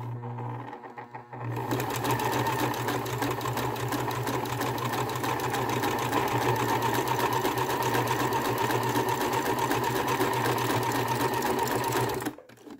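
Sewing machine stitching a neckband for a raglan top runs steadily and loudly at close range for about eleven seconds after a brief quiet start, with an even mechanical hum and rapid needle chatter, then stops abruptly.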